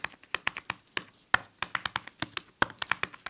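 Dull, padded taps on a Smart Keyboard Folio for iPad Pro, irregular and close, with a couple of louder thumps among quicker keystrokes.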